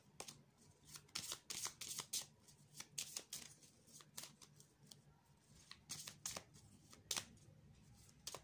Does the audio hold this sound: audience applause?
no